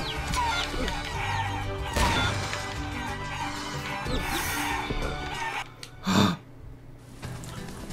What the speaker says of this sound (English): Leave the chickens alone. You go chickens!